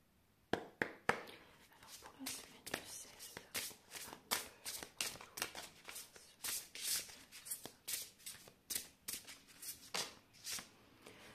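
Oracle cards are shuffled by hand in quick repeated riffles and slaps, a steady run of crisp papery bursts close up with no talking.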